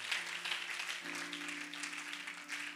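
A church congregation applauding for the Lord, a faint, steady wash of clapping with a sustained tonal hum of an organ or keyboard underneath and no voices.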